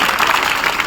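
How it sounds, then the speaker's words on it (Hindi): A brief, loud burst of dense clapping from the audience at a school farewell program, a close crowd applauding together. "एक बार जोरदार ताली हो जाए।"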